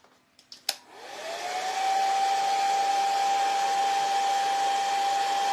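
A hair dryer blows on acrylic craft paint on a craft project, starting after a few clicks and handling knocks, then rising into a steady, loud whir with a thin tonal whine that holds to the end.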